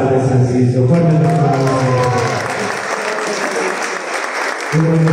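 Audience applause at a Día de la Libertad de Expresión event in Tecámac, a loud, dense wash of clapping with voices audible over it in the first seconds before the crowd thins and a speaker resumes.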